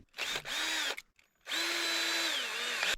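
A power drill whines in two bursts, a short one and then a longer steady one, boring into wood close by with no talking.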